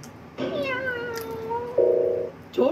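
A cat meows close by with a long drawn-out call whose pitch slowly falls, followed by a short tonal beep and then the start of another meow.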